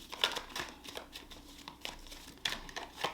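Soft papery crinkling and riffling in irregular bursts, close and quiet, as tarot cards are shuffled by hand.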